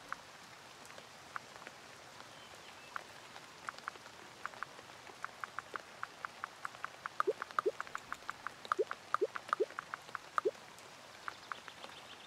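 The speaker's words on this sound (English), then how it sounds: "it's still raining here." Rain patters in the farming video game Fae Farm, a light steady drizzle of scattered droplets that grows into sharper, quicker ticks toward the end, with no talk.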